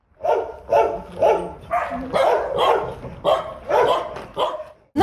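Several dogs at an animal shelter in Poltava bark in loud, repeated bursts at close range, some yips and whimpers mixed in, with no talking.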